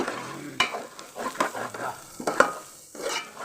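Ginger and garlic frying in hot oil, a continuous close sizzle with scattered scrapes and knocks from a stirring spoon against the pan.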